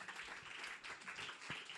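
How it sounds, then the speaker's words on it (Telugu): A church congregation claps loudly together in worship, a faint, dense patter of many hands sustained across the moment, with scattered sharper claps standing out. "బిగ్గరగా చప్పట్లు కొడుతూ దేవుని నామాన్ని మహింపరుద్దాం"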